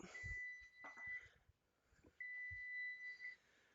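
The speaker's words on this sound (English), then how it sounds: "my cookies are beeping" Oven timer for cookies beeping in two long, steady high-pitched tones separated by a short pause, with faint kitchen clatter around them.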